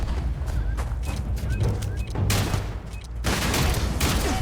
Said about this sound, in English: This thing fires explosive bullets.